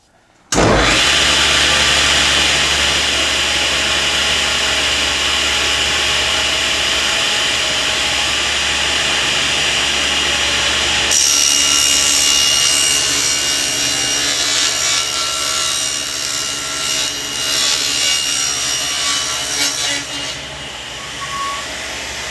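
Table saw ripping a wood board along the fence while building a glue caddy, a loud steady cutting roar that runs continuously for about twenty seconds, its pitch shifting partway through the cut.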